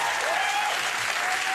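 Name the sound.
studio audience applause on a late-night show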